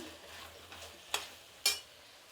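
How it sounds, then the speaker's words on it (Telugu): A curry of boiled potatoes and tomato is stirred in a pan, giving two sharp scrapes of the spoon over a low, steady background hiss. No voices. "దీన్ని బాగా కలుపుకుందాము"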